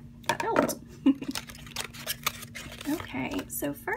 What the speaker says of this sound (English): Use my scissors, see if that helps.